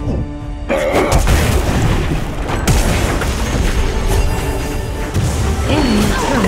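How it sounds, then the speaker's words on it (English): A turret is destroyed in the Wild Rift mobile game with a heavy booming crash and crumbling debris, followed by layered game effects and battle sounds. "Enemy turret destroyed."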